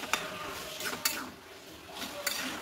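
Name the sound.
stirring garam masala into the curry in a pan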